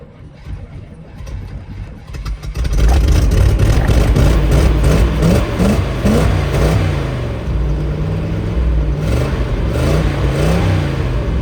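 A pickup truck engine revs hard while snowplowing ditches, starting with a low idle rumble, then a loud sustained roar with rising and falling revs and a heavy low drone throughout.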